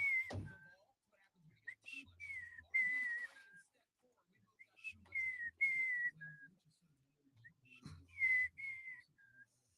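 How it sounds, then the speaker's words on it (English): A person whistles a tune alone in short, separate phrases with pauses between them, close to the microphone, over a quiet background with a few soft thumps. "That's the best I can whistle."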